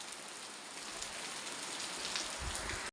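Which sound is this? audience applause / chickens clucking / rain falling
rain falling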